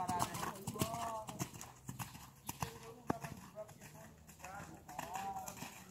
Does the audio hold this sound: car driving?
no